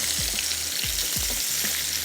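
Marinated prawns frying in hot oil, giving a steady dense sizzle throughout, close by, with a few low knocks of stirring and no voices.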